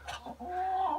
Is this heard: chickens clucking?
yes